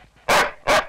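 A dog gives two loud, close barks in quick succession on a street, with no talking over them.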